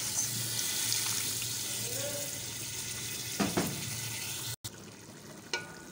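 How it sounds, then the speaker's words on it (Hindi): A glass of water poured into a pan of frying potatoes, minced meat and peas: a steady sizzle gives way to a brief gush and splash midway, followed by a short pause and a softer clink. "और इसी के साथ अब मैं 1 ग्लास पानी डाल दूंगी इसमें।"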